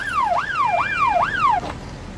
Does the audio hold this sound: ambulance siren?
yes